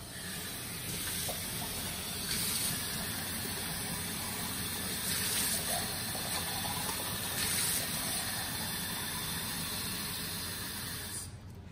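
Warm water pours into a glass beaker in a continuous close hissing gush that holds steady for about eleven seconds, then stops.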